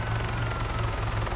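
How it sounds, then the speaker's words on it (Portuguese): A helicopter in the video game Arma 3 during a police chase, a loud, steady rotor drone with a low rhythmic thump throughout, close and continuous, with no talk over it. "O helicóptero?"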